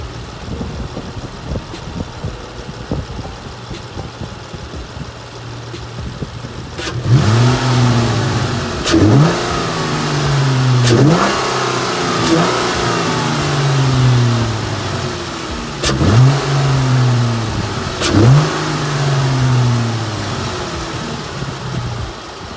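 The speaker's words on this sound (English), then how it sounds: "let me give y'all a few revs with it in the engine bay" A Chrysler 300S with the 3.6-liter V6 and a ported 80mm throttle body idles close up in the engine bay, then is revved about five times in spaced blips, each a loud rising roar that drops back to idle.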